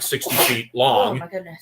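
A sneeze bursts out amid people talking, close and loud, with conversation continuing right around it.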